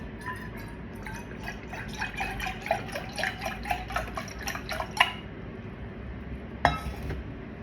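Milk for Arabian pudding is poured into a pot with a steady splashing trickle and light clinks, close up, with no talk.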